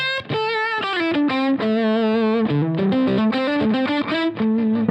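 An electric guitar lead channel with OTS overdrive on a Greg Koch signature amp, a loud, sustained, distorted and fuzzy lead line of held notes and short runs, played alone without talking.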